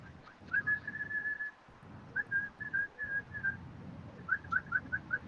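A person whistles short tonal phrases, a few sustained notes followed by a quick run of brief chirps, moderately loud over a low background rumble.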